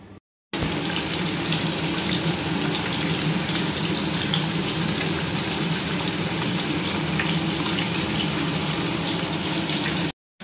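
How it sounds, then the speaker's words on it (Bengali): Fish frying in hot oil in a Bengali home kitchen, a steady, dense crackling sizzle that runs loud and unbroken for about ten seconds with no talk. "তেলও বসিয়ে দিয়েছি, ভাজবো মাছটা এবার"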